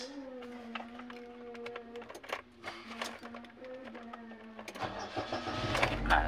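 A Nissan Grand Livina with a long, hard-starting fault cranks with a steady droning whine for several seconds before the engine catches and rumbles into a rougher idle near the end, heard close up without talking.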